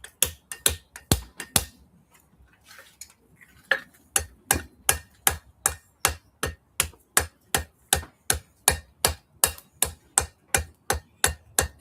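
A hammer strikes a forged axe-making tool at the forge to put a chamfer on its top, with sharp metallic blows falling in a steady brisk rhythm close up after a brief pause.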